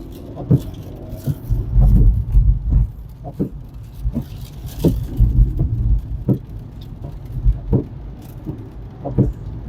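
A car engine revs and rattles as the learner driver accelerates during a driving lesson, with uneven surges and thumps through the cabin.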